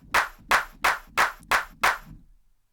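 Six sharp hand claps, close and alone, spaced at an even slow pace with no clear speeding up.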